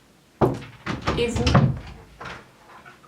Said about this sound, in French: Merci d'ouvrir ma porte et de m'arrêter